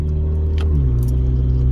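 Car engine with a loose exhaust pipe idles in a deep, steady rumble, loud and close, its low drone dipping slightly in pitch midway, with a faint brief rattle and no talk.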